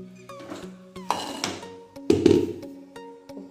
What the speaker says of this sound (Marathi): कुकरमध्ये अशी एक प्लेट टाकूया.